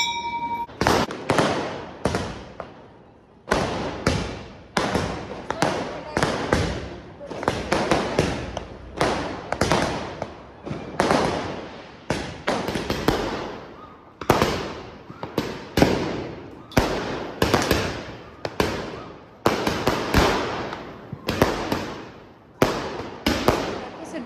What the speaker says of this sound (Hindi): इतने जोर से पटाखे आवाज़ करते हैं